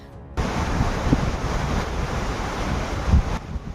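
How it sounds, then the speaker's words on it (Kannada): Water released from the gates of the Hippargi barrage on the Krishna River roars in a steady, loud rush that continues throughout. "ಹಿಪ್ಪರಗಿ ಬ್ಯಾರೇಜ್ನಿಂದ ನೀರು ಬಿಡುಗಡೆ."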